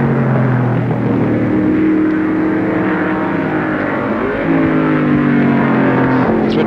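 An improved production touring car races past on the Warwick Farm circuit in 1973, its loud engine note rising and falling as it closes in and roars by, with no voices over it.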